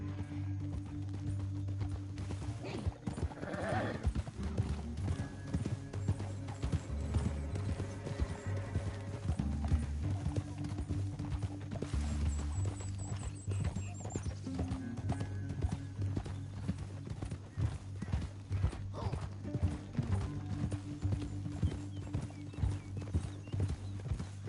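Steady rhythmic clip-clop of horse hooves at a brisk pace in Red Dead Redemption 2, close and continuous, with a horse whinnying briefly partway through over a low droning background.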